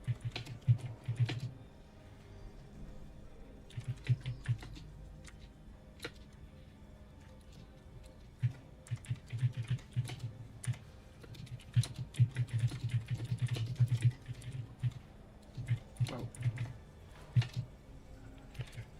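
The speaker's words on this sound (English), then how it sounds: "now I am typing out into, unfortunately, house chat" Steady typing on a computer keyboard, close and fairly quiet, with bursts of rapid clicking keystrokes separated by brief pauses.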